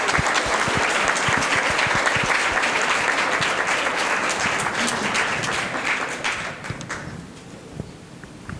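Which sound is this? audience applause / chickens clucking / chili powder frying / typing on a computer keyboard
audience applause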